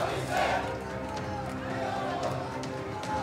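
A political crowd at a Trinamool supporters' meeting chants the 'Adhinayak Abhishek' slogan, with many voices blended into a loud, continuous rhythmic roar that swells slightly at the start and the end.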